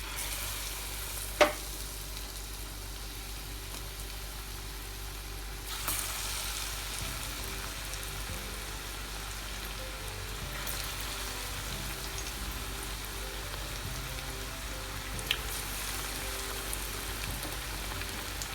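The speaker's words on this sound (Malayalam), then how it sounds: "ഇനി നമുക്ക് വഴുതനങ്ങ ഓരോ പീസ് എടുത്ത് ഇതിൽ മുക്കി വെളിച്ചെണ്ണയിലിടാം" Battered brinjal slices fry in hot coconut oil with a steady, close sizzle and bubbling, broken by a few sharp clicks and spatters, with no talking.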